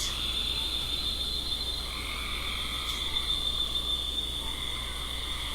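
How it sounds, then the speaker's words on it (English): Frogs croak outdoors near a creek in a dense, continuous chorus, steady and moderately loud, with an insect-like trill woven through and no voices. "I can't tell if I'm hearing the frogs from outside through the headset or if it's the game."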